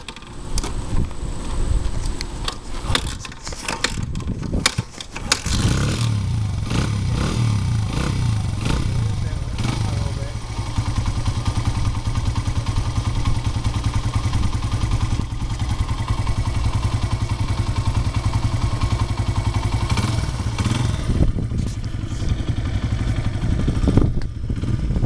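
A dirt bike engine, started with the choke on, idles and revs with a steady droning throb. People talk and call out over it close by.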